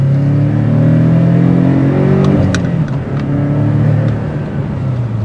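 A 2022 Porsche 718 Cayman accelerating, its engine a loud, steady drone close by that climbs and shifts in pitch across several seconds, with no talk over it.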